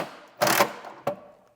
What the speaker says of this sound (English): Run in the screw.